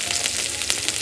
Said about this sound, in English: put it on a high flame and sizzle it for about 2 minutes